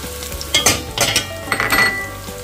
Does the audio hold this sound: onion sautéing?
yes